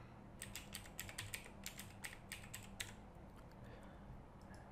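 Quick, light keystrokes on a computer keyboard while entering a username during a WordPress install, a steady burst of close taps that stops and leaves faint background hum.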